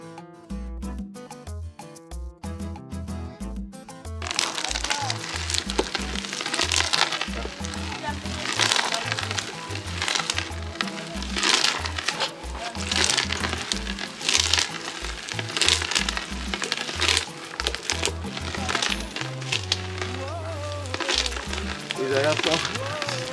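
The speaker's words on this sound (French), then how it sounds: "Voici l'étape la plus sportive de la préparation de l'huile, le pilage des graines." Roasted castor oil seeds pounded in a mortar for oil making, a run of heavy repeated thuds and crunchy crackling, close and loud over a musical background.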